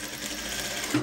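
A sewing machine stitches a pocket seam slowly, giving a short, close run of soft mechanical whirring with a small knock at the end, heard alone.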